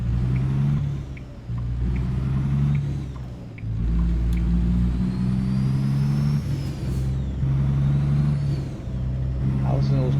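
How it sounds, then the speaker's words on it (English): A heavy truck engine in American Truck Simulator rumbles steadily as its turbos spool up, with a loud, continuous low drone that swells briefly, along with faint air-brake hiss and a voice talking over it. "turbos kick in"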